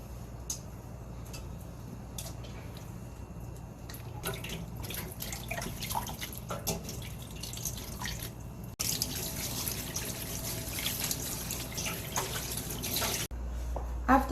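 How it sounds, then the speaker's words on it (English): Cold tap water runs steadily over bok choy (Chinese cabbage) being washed for a Korean side dish, a continuous splashing flow with scattered drips and clinks, louder and fuller in the later part. "Have to wash with the cold water."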